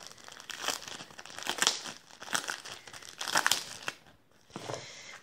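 A sticky scrapbooking package of foam shapes is pulled open with crinkling and tearing of plastic in several close, irregular bursts, ending in a short rip.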